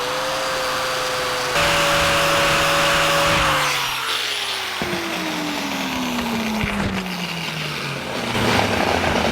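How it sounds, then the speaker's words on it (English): A stripper wheel on a power tool grinds powder coat off the ends of steel sleeves for a 1949 Chevrolet gasser's four-bar mounts, giving a loud close whirring hum whose pitch drops as the wheel loads up, then rises again. "take the stripper wheel and take the powder off the ends of these sleeves"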